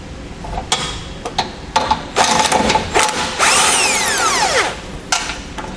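A nut is broken loose and spun off a tow hook bolt on a 2016 Chevrolet Colorado, heard as a series of sharp metallic ratcheting clicks and short tool bursts, close and with no talking.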